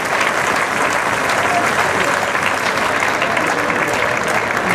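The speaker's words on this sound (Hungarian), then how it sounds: "kérnénk egy nagy tapsot Asgót Lászlónak" A crowd claps loudly and continuously at a Davis Cup tennis memorial event for Asbóth József, a dense, unbroken burst of applause.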